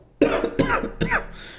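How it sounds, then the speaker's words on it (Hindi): Three sharp, loud coughs in quick succession from a person close by, followed by a brief breathy pause. "It's just simple cough."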